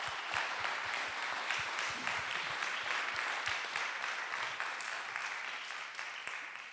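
Sustained audience applause at a kick-off meeting, dense steady clapping at even loudness throughout with no voices over it.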